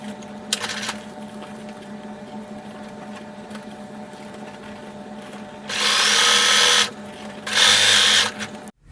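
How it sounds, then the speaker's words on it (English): A sewing machine stitches along the folded edge of an elastic waist skirt in three separate bursts: a short one near the start and two longer runs of steady mechanical whirring near the end, with quiet pauses between. "close this hole by sewing along the edge of the fold just like we did"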